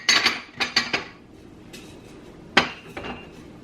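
Ceramic two-handed soup bowls and dishes clink and clatter as they are handled in a kitchen cabinet, with a quick burst of knocks, a pause, then a sharper clack and lighter taps, close and alone.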